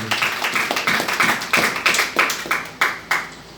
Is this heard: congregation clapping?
yes